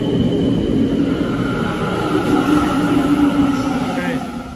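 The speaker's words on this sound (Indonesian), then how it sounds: "The F Minor Express bound for Ogawamachi is arriving at track 4." A train rumbles steadily into Shinjuku-sanchome station in Japan, a loud continuous mechanical drone with faint tonal squeals on top.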